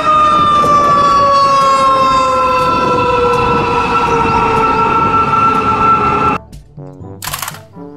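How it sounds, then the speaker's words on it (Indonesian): A fire truck siren wails loudly and steadily with a gliding tone for about six seconds, then cuts off abruptly, leaving quieter mixed noise and a brief hiss near the end. "Mobil truk pemadam kebakaran."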